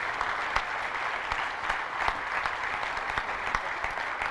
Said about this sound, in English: one big round of applause for everybody who put in their own blood